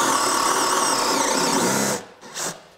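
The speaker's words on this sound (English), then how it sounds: "Bogging slightly near the end of the hole." DeWalt 20V compact drill driver boring a hole with a spade bit, a loud steady high-pitched whine that bogs down near the end, then cuts out with a brief trailing burst.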